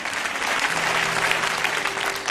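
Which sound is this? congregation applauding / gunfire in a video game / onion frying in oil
congregation applauding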